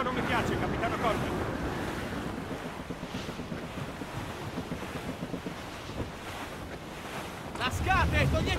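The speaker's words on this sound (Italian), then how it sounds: "Il vento non mi piace, Capitano Corbin." Wind and ocean waves at sea in Assassin's Creed Rogue, with creaking sailing ship sounds, a steady loud broadband roar throughout, under and between bursts of game dialogue.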